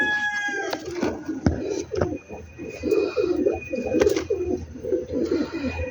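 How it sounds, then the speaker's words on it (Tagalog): Pigeons cooing in soft, repeated low phrases close by in a morning coop where a pair is laying eggs, with other birds calling in the background and a faint rooster crow. "Kalapati natin nag-iitlog."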